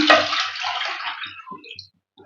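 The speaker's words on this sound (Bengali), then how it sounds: "আলাদা একটা জায়গায় আমি ঢেলে রাখলাম জলটা" Water poured out into a separate container, a brief rushing splash that fades within about a second and a half, ending in a few small drips.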